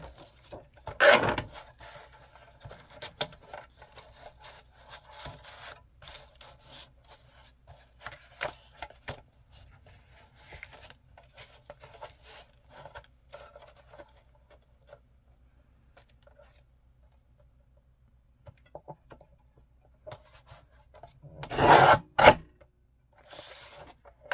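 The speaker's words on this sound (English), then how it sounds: "I'm going to get my deckle edge trimmer. So I can take off this gluey edge." A deckle edge trimmer tearing off a gluey paper edge, giving soft scraping and rasping strokes with a couple of louder rips near the start and the end and quieter rubbing between.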